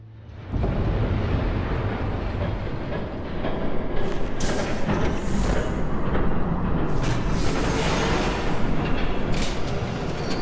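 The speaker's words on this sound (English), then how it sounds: "There's a train coming." A train approaches in a dramatic action scene, its heavy rumbling roar rising abruptly and staying loud and continuous, swelling in bursts as it nears.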